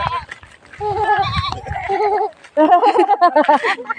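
A person imitates a goat's bleat in several wavering, nasal cries, with laughter and chatter around them, close and fairly loud.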